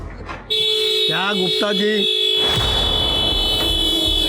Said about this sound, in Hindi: देखो जरा क्यों हॉर्न बजा रहा है।